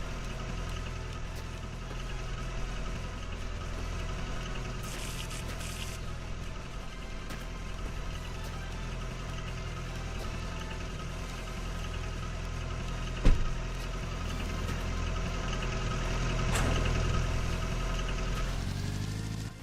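A car engine in the video game The Long Drive runs steadily with a low, droning hum and faint vibration, continuous and moderately quiet, with a single sharp knock partway through.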